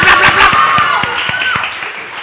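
Audience applause ripples through a gathering where a performer gives advice and dances for children, a steady clapping wash mixed with voices and cheering that fades slightly toward the end.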